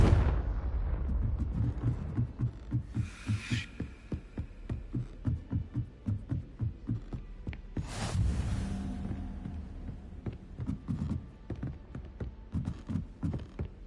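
Confringo fire spell blasts in Hogwarts Legacy: two sharp explosive bursts stand out over a steady run of rhythmic thumping footsteps, with no talking.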